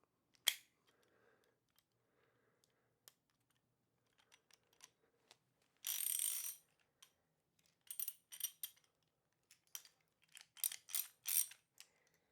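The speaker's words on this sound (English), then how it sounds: "So the ratchet is now in the tightening setting." A ratchet mechanism on a bike wheel is clicked and set during fitting, giving quiet, close, crisp clicks and short bursts of rapid ratcheting separated by near silence.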